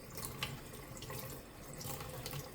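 Water flowing from the pump of an AeroGarden Harvest Elite Slim, a soft close trickling splash with small irregular drips and bubbles, quiet and steady with no voices.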